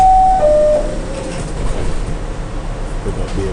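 A subway train in Brooklyn, New York, runs with a steady rumble and rattle after a brief high squeal at the start, loud and continuous, with a bird cooing faintly nearby.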